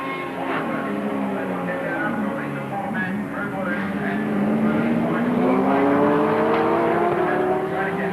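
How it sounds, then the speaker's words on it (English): Touring race cars from the 1983 ATCC round at Symmons Plains roar past steadily, engines droning loud and continuous with a rising pitch as the field goes by. "So Johnson's still chasing past us at the rear of the field."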